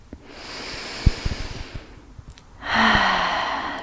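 Slow, deep breaths during a children's yoga rest: a long airy inhale, a few soft thumps, then a louder breathy exhale close to the mic, with no talking.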